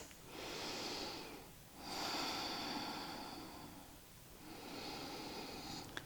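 Slow, deliberate breaths during a yoga balance pose, two long airy exhale-like swells separated by a brief pause, close and soft with no talking.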